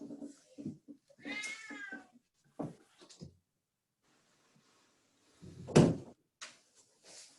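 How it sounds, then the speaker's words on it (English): A house cat meowing several times nearby, one drawn-out meow standing out, with a louder knock or thump later and otherwise quiet surroundings. "now I have a meowing cat"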